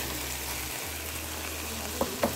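Chicken pieces dropped into a hot pan, sending up a steady broadband sizzle of frying with a couple of brief clatters near the end, close and moderately loud.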